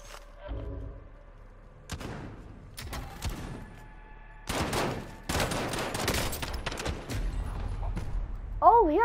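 Shotgun gunfire in the video game Warzone: several loud, separate blasts with short gaps between them, mixed with other gunshots and battle noise, and a player talking over the action.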